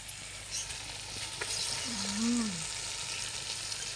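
Pieces of fish fry in oil with a steady close hiss. A brief voice sounds partway through.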